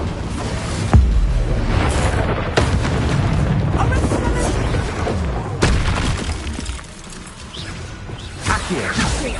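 A fiery Incendio spell cast during a wizard duel in Hogwarts Legacy, a loud booming burst with whooshing blasts and rumbling impacts stretched over several seconds, with voices speaking over the combat.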